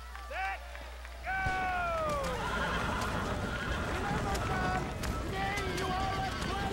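A horse in the Red Dead Redemption video game gallops and neighs loudly, with a high whinny near the start, then steady rapid hoofbeats during a race, while someone talks over the action.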